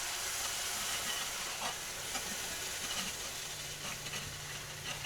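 A whisk works beef broth into gravy in a pan, producing a continuous hissing, scraping wash of sound with faint rhythmic strokes and no talking.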